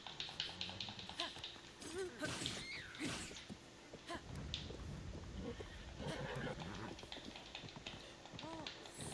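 A horse in the video game Breath of the Wild neighs and whinnies in several loud bursts over clip-clopping hooves, with in-game clatter and effects around it.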